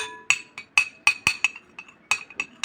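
A metal spoon clinks repeatedly against a bowl while stirring an egg pudding mixture, sharp bright taps in an irregular rhythm, close and fairly quiet with no talk.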